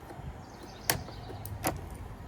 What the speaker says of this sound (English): Oh, there's that clip. It just popped out on its own.